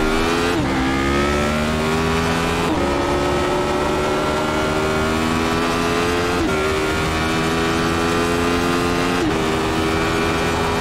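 Radical SR8 race car at Phillip Island in iRacing, its engine droning loud and steady throughout with several brief dips and rises in pitch at gear shifts, no talk.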